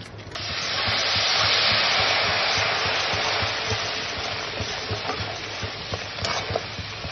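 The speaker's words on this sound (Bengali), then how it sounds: "মশলাটা ভেজে নেব।" Spices fry in hot oil for Kashmiri aloo dum, giving a loud, continuous close sizzle and hiss with constant stirring and scraping in the pan. No voices are heard.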